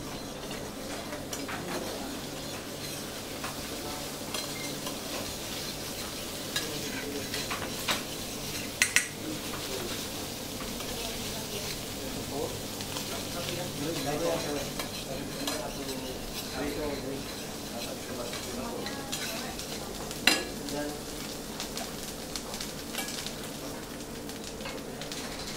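Shallots and garlic cook in a pan in a restaurant kitchen in Bali, with soft, steady frying and occasional clinks of utensils against metal beneath quiet background activity and talk.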